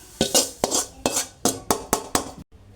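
Roasted upma semolina is scraped from a pan into another vessel with a metal utensil, giving seven or eight sharp, evenly spaced clanks and scrapes, loud and close, before a sudden stop.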